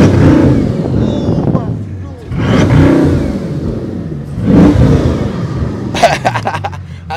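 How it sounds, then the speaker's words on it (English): Bugatti Chiron in chrome blue giving short revs, three surges of engine roar with excited voices talking over and between them. "Give it a little rev."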